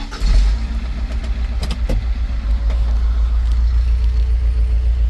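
A car engine running while driving on the road near Apple Creek, Ohio, a steady low rumble close by. It swells briefly at the start, then holds a constant hum, with a few faint clicks and knocks along the way.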